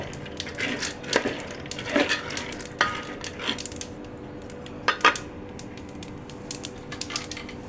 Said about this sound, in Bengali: আমি এখন বুটগুলোকে ভালোভাবে ভেজে নেব